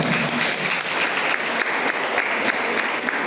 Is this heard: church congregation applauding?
yes